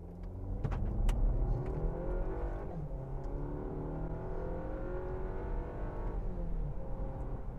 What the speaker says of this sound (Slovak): Takže ja tu takto zastavím, nič nejde a dajme si plný plyn.